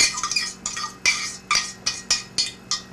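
A spoon stirs apple cake batter in a bowl, clinking against the sides in a steady series of about eight distinct scrapes and taps, close and clear, with no voices.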